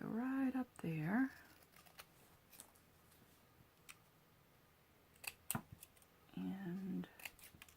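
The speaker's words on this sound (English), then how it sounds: "I think I need some longer scissors" Scissors make several short, crisp snips while cutting paper for a step-fold Christmas card, close by and fairly quiet, with a person talking briefly before and after the cuts.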